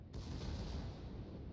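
Tirpitz secondary battery guns firing in a naval warfare game, a heavy booming blast at the start followed by a long rumbling decay, fairly distant and alone.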